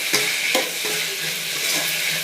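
Potato curry pieces fry in oil with chilli powder in a pan, a close, steady sizzle broken by a few stirring scrapes.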